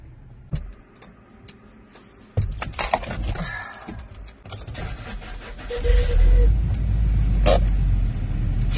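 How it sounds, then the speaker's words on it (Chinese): A petrol camper van engine cranks and catches partway through, then settles into a steady low rumble as it warms up on a cold morning, with scattered clicks and knocks around it and brief talk. "汽油车就是这一点好啊， 好发动。"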